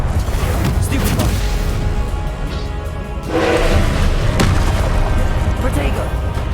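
Spells cast in the Hogwarts Legacy video game, including the Stupefy stunning spell, come as loud booming bursts and magical impacts. A dense, continuous game soundscape layers over them, with what sounds like a voice mixed in.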